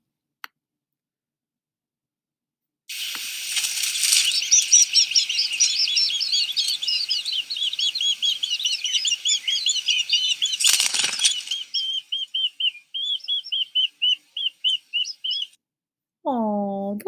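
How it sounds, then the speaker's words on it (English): Robin chicks chirping while a parent bird feeds them worms, a dense burst of high, rapid begging chirps and flutters that thins into spaced single cheeps, followed by a lower voice at the end. "The first video is going to show a parent bird feeding worms to its offspring."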